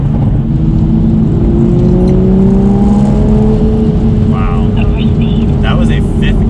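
A tuned, straight-piped Toyota Supra accelerates hard from about 40 to 70, heard from inside the cabin. The loud exhaust drone climbs in pitch across several seconds while people talk over it.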